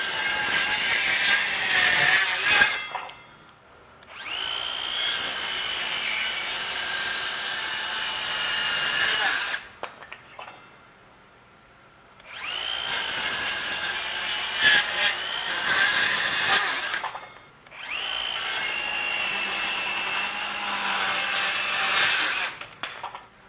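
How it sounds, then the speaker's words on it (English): A DeWalt XTREME 12V DCS512B cordless circular saw cuts through knotty wood in three long, loud passes, its high whine and rasp separated by brief quiet gaps between cuts. "So again, you can't really push this saw hard, but if you let it run its course, it will cut through even the knots."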